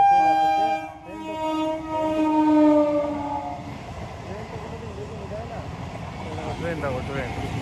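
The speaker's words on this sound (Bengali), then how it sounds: "সেই ট্রেন যাচ্ছে দেখো" A train at a railway level crossing sounds a loud, sustained horn, then the wagons rumble and clatter past close by in a steady roar, with a voice speaking over it.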